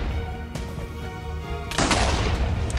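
A Minecraft creeper blows up with a sudden loud blast near the end, preceded by a brief sharp crack and steady game background noise.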